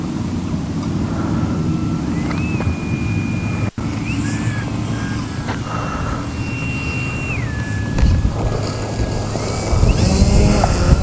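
A Skynetic XCub RC airplane flying overhead, its electric motor whining in sustained tones that rise and fall as the throttle changes, set against steady wind noise.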